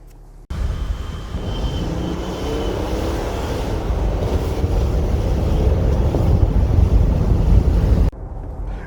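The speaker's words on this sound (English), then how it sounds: "those of you who wanted to hear the exhaust note on the run for this diesel" Exhaust note of a diesel Mercedes G63 on the move, a steady low rumble under heavy wind rush that swells gradually over several seconds before cutting off abruptly, loud and close with no talking.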